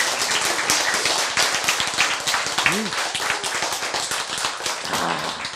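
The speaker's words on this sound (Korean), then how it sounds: "박수. 박수." Audience clapping at a lecture: a dense run of sharp claps filling the whole stretch, fairly close, with a voice briefly breaking through in places.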